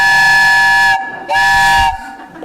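Crowd of audience members blowing whistles in imitation of train engine whistles, two loud sustained shrill blasts separated by a short pause, with a brief trailing murmur at the end.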